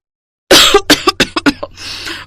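A woman coughs in a quick series of about six harsh, close coughs, followed by a raspy exhale, with no speech.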